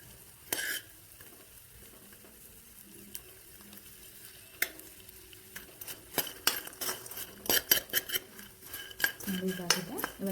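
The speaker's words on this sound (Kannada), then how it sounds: "ಇದನ್ನ ಈ ಥರ ಮಾಡ್ಕೊಂಡು ಫ್ರೈ ಮಾಡ್ಕೋಬೇಕು ತುಪ್ಪದಲ್ಲಿ" Dry fruits fry in ghee in a pan for laddu, a low sizzle under sparse clinks at first, then growing into busy, rapid scraping and clattering of a spoon against metal.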